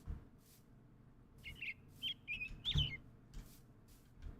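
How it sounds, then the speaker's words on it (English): Birds chirp in a modded Minecraft world, with a few short bright tweets and trills clustered in the middle and soft scattered clicks around them, fairly quiet. "Immense sounds of birds."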